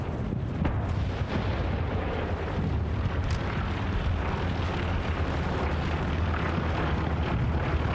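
An aircraft strafing run in a military video game, with low rumbling explosions and rolling gunfire blending into a dense, steady roar throughout.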